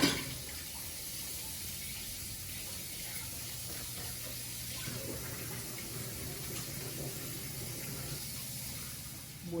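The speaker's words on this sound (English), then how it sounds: "I'm going to rinse my hands real quick." A kitchen tap runs steadily while hands are rinsed, a soft continuous hiss of water with faint splashing, even and close throughout with no talk.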